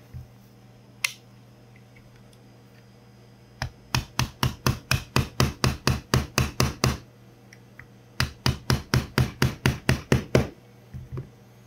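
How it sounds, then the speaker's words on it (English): Gentle hammer taps on a correct-size punch drive pins out of a Glock 17/19 Gen 3 frame, with two rapid steady runs of about a dozen sharp metallic knocks each, close and loud, and a short pause between them. "have a Glock punch or just a correct size punch in general and knock these out gently with a hammer"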